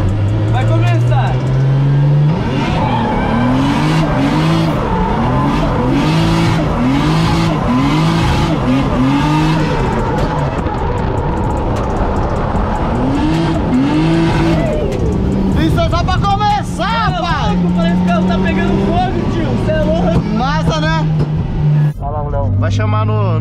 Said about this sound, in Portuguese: aqui eu acho que eu vou fazer um driftinho